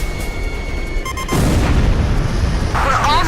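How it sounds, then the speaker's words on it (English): A missile striking its target in the Ace Combat 5 flight game, heard as a sudden loud, dense roaring burst that takes over from a steady drone and rumbles on to the end, with a bright crackling swell near the close. "The captain's missile hit the target!"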